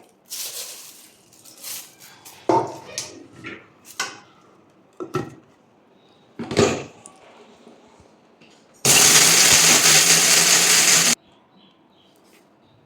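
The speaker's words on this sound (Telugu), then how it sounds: "కొద్ది కొద్దిగా వేసుకుంటూ మనం మిక్సీ పట్టేసుకోవాలి" A mixer grinder whirs loudly for a couple of seconds grinding dry curry and drumstick leaves, preceded by scattered clatters, taps and rustles of handling.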